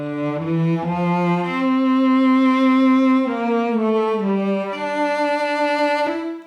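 A dry cello plays a slow legato melody with no reverb, close and clear, the notes moving stepwise and ending cleanly, played alone.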